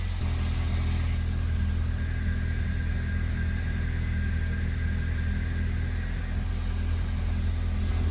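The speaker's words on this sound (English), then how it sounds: "That looks good for a cold start" A Toyota Matrix engine idles just after a cold start, a steady, close, even rumble with no revving and no voices over it.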